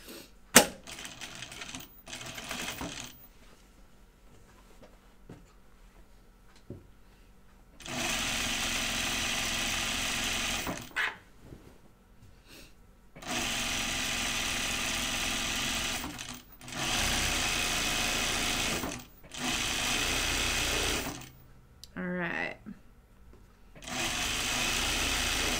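Sewing machine stitching a Tibetan chupa garment in several bursts: short stuttering runs early, then longer steady whirring passes separated by brief pauses, close and loud with no talk.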